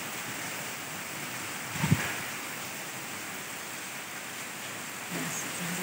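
Heavy rain pours down in an even, unbroken roar, with one brief thump partway through.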